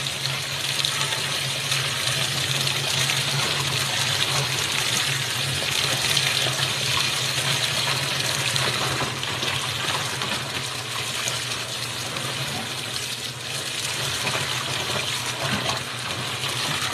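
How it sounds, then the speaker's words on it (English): Water runs steadily from a tap into a sink, a continuous loud rushing hiss that holds for the whole stretch with no talk over it. "I already started the water."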